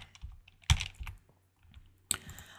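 Keys clack on a computer keyboard while text is entered in Excel, a few close, fairly quiet taps in short bursts with a pause before a final sharper keystroke.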